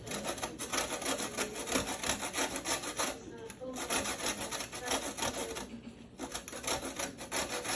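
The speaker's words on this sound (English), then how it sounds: "I'm just going to take off some of the rind." Lemon rind being grated for zest over a grater, a steady run of rough, scraping strokes repeated close up, with brief pauses between passes and no talking.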